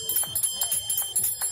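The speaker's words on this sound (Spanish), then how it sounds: "Ahí son las campanas" Bells ring repeatedly during a running race in Spain, bright clanging strokes coming in a quick irregular rhythm over a steady crowd-and-street background.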